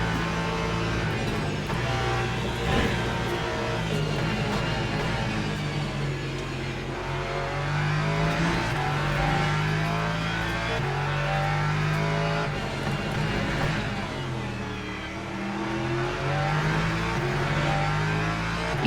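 Race car engines roar continuously in the Le Mans Ultimate racing game, a dense, loud layered drone of several cars with rising and falling revs throughout, no voices.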